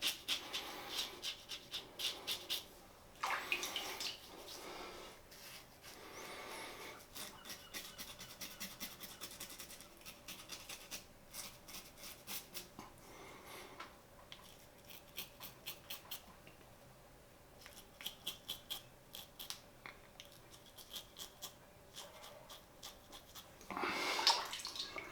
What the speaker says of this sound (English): There's plenty of slickness on the soap to just run a damp razor over the skin.